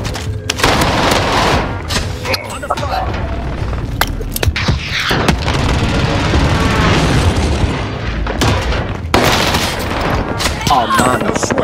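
Rapid PPSh submachine gun hipfire in Call of Duty Warzone, loud dense bursts of automatic fire with booming impacts, broken by short pauses and continuing almost throughout.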